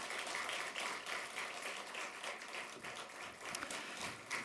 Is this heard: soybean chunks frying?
no